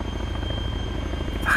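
A helicopter in the Arma 3 video game lifts off, its rotor throbbing in a steady loud beat with a constant engine whine, alone without talk.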